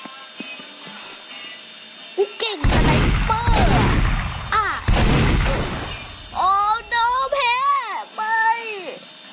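Gunfire from the Roblox game Battlefield, loud dense bursts of shots in two long rolling volleys, followed by short high-pitched sweeping game effects.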